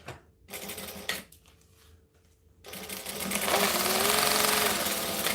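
A sewing machine stitches the sides of a fabric bag, starting with short stop-start bursts and then running into a loud, continuous rapid whirring near the microphone.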